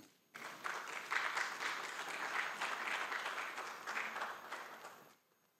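Audience applause at an international soil-research workshop in Ghana starts abruptly, holds as dense, even clapping for about five seconds, then fades quickly into near silence.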